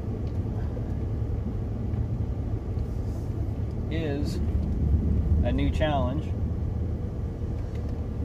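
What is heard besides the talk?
truck engine while driving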